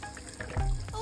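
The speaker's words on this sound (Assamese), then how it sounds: "পিঁয়াজখিনি একদম গাখীৰতে সিজিব দিম" Onions frying in ghee give a short burst of sizzling and crackling, close and fairly loud, with a brief stirring scrape partway through.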